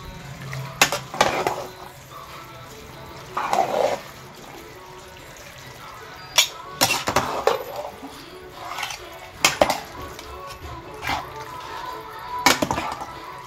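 A utensil stirs spaghetti in a pan, giving intermittent scraping clinks and metallic knocks in irregular bursts against a quiet kitchen background.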